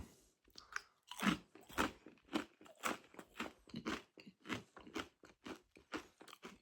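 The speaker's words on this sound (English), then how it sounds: "I've gone for rice crackers instead of rice cakes" Crunchy rice crackers are bitten and chewed close up, with a steady series of sharp, quiet crunches, one after another, and no talking.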